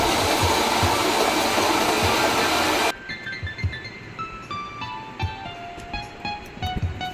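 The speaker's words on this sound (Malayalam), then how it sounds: "മിക്സ് ചെയ്തിട്ട് നമുക്ക് നല്ല കുഴമ്പ് പരുവത്തിൽ അടിപൊളിയായിട്ട് അരച്ചെടുക്കാം" A kitchen mixer grinder whirs loudly for about three seconds grinding appam batter, then cuts off abruptly, leaving quiet clinks and faint household sounds.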